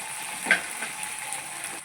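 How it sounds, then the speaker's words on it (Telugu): Ginger garlic paste sizzles and fries in a pan while being stirred, a soft continuous crackle with a faint scrape of the spoon near the start. "అల్లం వెల్లిగడ్డ వేసుకోవాలి. వేసుకున్న తర్వాత ఇట్లా కలుపుకోవాలి."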